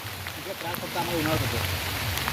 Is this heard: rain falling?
yes